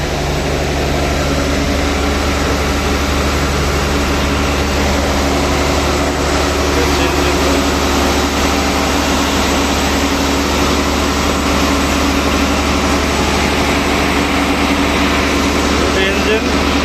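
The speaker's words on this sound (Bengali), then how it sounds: "engine room" Loud, unbroken engine drone fills the engine room of the passenger launch MV Captain, a deep heavy rumble with steady mechanical hum, while a voice speaks over it.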